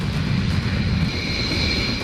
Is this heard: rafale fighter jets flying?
yes